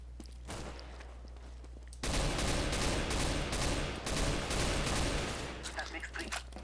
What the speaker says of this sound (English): I did not just shoot through the wall.